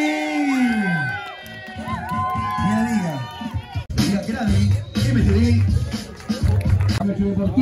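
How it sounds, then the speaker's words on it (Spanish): An outdoor crowd cheers and claps for athletes at a 110 km gravel bike race in Chillán, with whoops and shouting, children's voices and a pitched vocal sweep early on, then denser clapping and babble. "Fuerte el aplauso entonces para todos nuestros deportistas."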